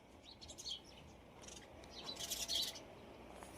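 Sparrows chirping outdoors near trees: quick, faint, high twittering calls that cluster in short bursts, heaviest near the end, over a quiet background.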